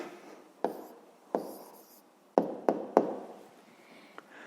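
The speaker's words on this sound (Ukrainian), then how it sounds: "Ну що ж, записуємо відповідь." A pen writes a maths answer on paper, a few sharp close taps and strokes spaced irregularly, followed by quiet scratching.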